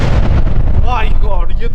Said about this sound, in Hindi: कैसे चांद हथेली पर रखकर एक सुरंग में किया जाता है ब्रेक थ्रू यानी धमाका